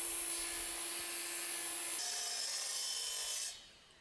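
Portable 12-inch sliding miter saw cutting wood for an outdoor couch: a loud, steady whine as the blade runs through the board, changing tone partway, then dropping off abruptly as the cut ends.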